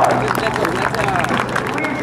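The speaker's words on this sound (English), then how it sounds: "Kevin Coleman, ladies and gentlemen, give this newcomer a big round of applause" An airshow crowd claps for aerobatic pilot Kevin Coleman and his Extra 300S in a loud, scattered burst of applause, while an announcer's voice runs over the clapping.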